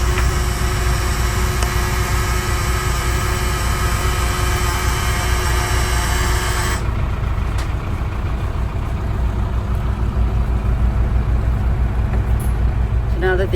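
Boat engines idle steadily in a marina slip after being started, a continuous low rumble running throughout, with brief speech over it.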